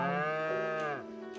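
A single cow moo, drawn out and tonal, sounds clearly and alone in a kids' yoga show during the cow pose, then drops off sharply at the end.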